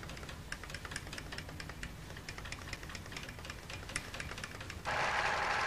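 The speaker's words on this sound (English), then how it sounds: "I think you can see the stepper motor moving the needle in this machine." Pfaff electronic sewing machine with a stepper motor driving the needle, giving a steady run of rapid, fine ticking pulses over a low mechanical hum, close and moderately loud, with a brief louder hiss near the end.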